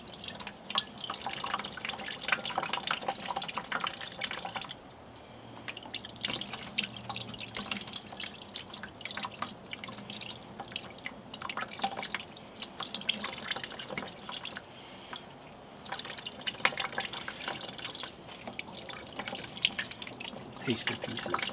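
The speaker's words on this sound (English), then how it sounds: "All I'm doing is rinsing the visible sugar and salt off of the fish." Tap water runs and drips steadily as visible sugar and salt are rinsed off salmon fillets before smoking, a continuous splashing trickle lasting throughout with a brief lull partway.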